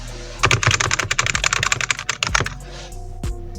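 A quick burst of sharp, close A101 gaming keyboard clicks, evenly paced, tapering off into a few scattered key presses and near silence at the end.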